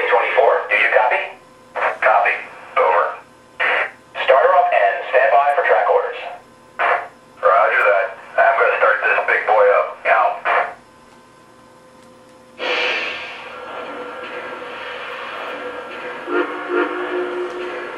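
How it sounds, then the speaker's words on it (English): A Lionel Union Pacific 4-8-8-4 Big Boy #4024 model steam locomotive starting up under Legacy control, with clipped announcements and chuffing bursts, followed by a long sustained steam whistle tone, fairly close and clear. "this is what it sounds like when you start it up with the Legacy"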